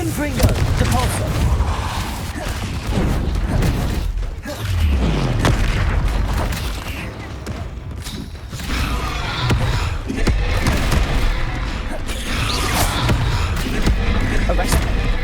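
Confringo and Depulso spell blasts in Hogwarts Legacy, a series of loud booming impacts and whooshes packed closely across the stretch with almost no quiet gaps, dense and continuous like a fierce magical battle.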